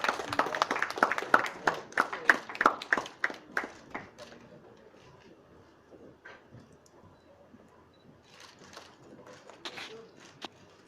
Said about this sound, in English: Ladies and gentlemen, please welcome with a round of applause